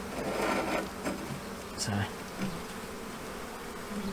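Honeybees buzz around a hive in Hertfordshire the day after an Easter swarm, a continuous close insect drone with a few faint handling knocks and a brief spoken word.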